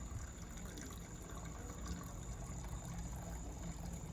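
A hot toluene sulfonation mixture is poured from a reaction vessel into a 250 ml glass beaker, giving a soft, continuous trickling flow heard up close and fairly faint, with no talking.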